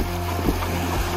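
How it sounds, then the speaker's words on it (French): Wind roars across a racing sailboat in the Solitaire du Figaro, sailing upwind in eight knots with swell, as a steady close rush of wind noise with faint water wash and no speech. "Au près, dans 8 nœuds de vent, avec déjà de la houle."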